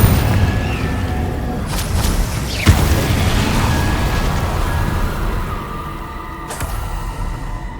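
Confringo spell explosion during Hogwarts Legacy gameplay on PS5, a sharp booming blast standing out from steady rumbling background, followed later by a second smaller crack.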